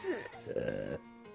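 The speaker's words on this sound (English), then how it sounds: "I don't know why I'm burping." A woman lets out a single short, low burp that is close and fairly soft, followed by a brief quiet pause.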